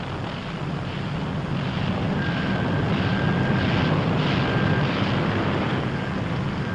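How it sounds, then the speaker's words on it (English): Piston engines of a B-17 bomber rumble steadily as the plane taxis, a broad continuous drone with wind noise and a faint whine running throughout. "the first plane hauls her nose round into the wind"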